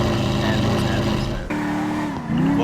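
Lamborghini in the GTA FiveM game driving on a Liberty City street map, a continuous engine drone that shifts pitch as it revs, with tire noise and a voice talking over it.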